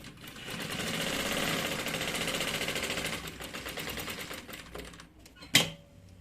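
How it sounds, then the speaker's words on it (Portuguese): A sewing machine stitching the seam of a fabric bag, a steady fast mechanical whir for several seconds that slows and stops, ending in a short sharp clunk, close up with no talk. "E aí é só costurar."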